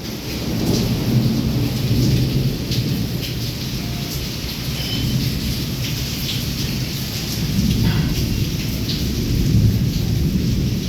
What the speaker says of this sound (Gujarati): ગર્જના અત્યારે થઈ રહી છે